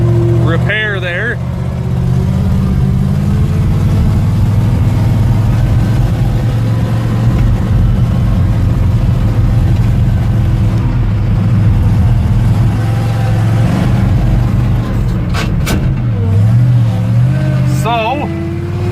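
A pickup truck engine runs roughly with the choke partially stuck on, giving a loud, continuous droning rumble close by for the whole stretch, with a couple of brief voice-like sounds.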